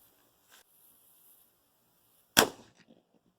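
A single sharp crack from a Bergara HMR rifle, a short loud report with a brief tail, following a few seconds of near silence and faint rustling.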